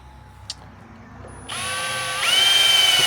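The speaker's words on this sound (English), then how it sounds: "Now we're going to go ahead and drill these." A power drill with a 1/4 inch bit spins up after a brief click, whining steadily and then rising in pitch as it bites into a metal shelf for a Bronco trunk door, close and loud.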